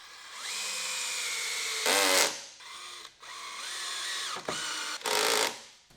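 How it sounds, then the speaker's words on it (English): Cordless drill driving pocket screws into wood for a desk build, several whirring bursts of rising and falling motor pitch with brief louder clattering spurts between them, close and loud with no talk. "now I'll be using the drill to finish the pocket screws"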